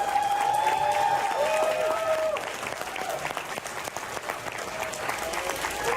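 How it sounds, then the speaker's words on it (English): A convention crowd at Spooky Empire applauds Ultraman actor Bin Furuya, a sustained wash of clapping and light cheering heard under a continuous tone and some voices. "nice round of applause."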